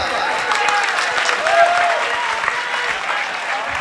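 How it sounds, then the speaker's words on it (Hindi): Audience applause at a mushaira, an Urdu poetry recitation event: steady dense clapping from a crowd filling the clip, with some cheering voices mixed in. "इस पर अलग से तालियां हो जाए एक बार"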